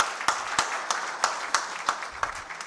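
Audience at a national seminar applauds to welcome a speaker, a steady patter of clapping with a few distinct louder claps recurring at regular intervals, moderately close and with no talking.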